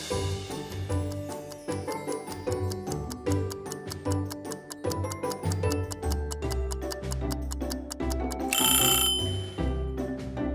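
A kitchen timer ticks quickly and steadily while a chocolate fudge cake is finished, the rapid clicks running throughout over a busy musical background, with a brief brighter burst near the end.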